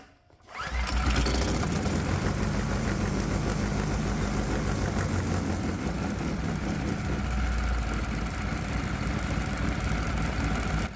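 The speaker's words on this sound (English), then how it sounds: "The engine idles perfectly, and it will sit here all day with a rock solid idle." A 212 Predator small single-cylinder engine fitted with Arduino-controlled fuel injection fires up after a brief quiet moment and settles into a steady, loud, even idle with a low rhythmic chug that holds for the rest of the clip, with no talking.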